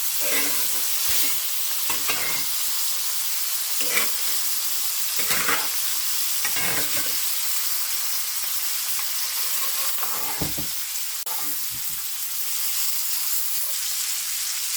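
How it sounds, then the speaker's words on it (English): A T-bone steak sizzles loudly and steadily in a hot cast iron pan with rosemary while melted butter is spooned over it, the constant frying hiss punctuated by repeated spoon scrapes and clinks. "I'm just going to start scooping the butter over the steak"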